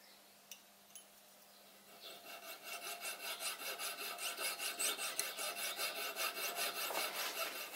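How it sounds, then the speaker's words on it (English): A very fine jeweler's saw cuts a metal scale to length, starting after a couple of light taps and settling into a quiet, even back-and-forth rasp of rapid regular strokes, close up with no talking. "I'm using this very fine jeweler's saw to cut it to length."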